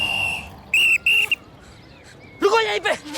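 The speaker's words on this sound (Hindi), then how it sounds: "पिछले सिग्नल से सीटी पे सीटी बजा रहा हूँ, सुनाई नहीं देता तुम लोगों को?" Police-style whistle blown in repeated sharp blasts, two quick shrill toots followed by a brief chirp, then more blasts near the end, loud and close over street background noise.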